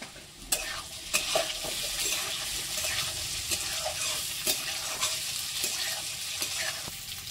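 Chopped carrot and green chillies sizzle in a hot pan for an upma of flattened rice, a steady frying hiss broken by repeated scraping clinks of a spatula stirring against the metal.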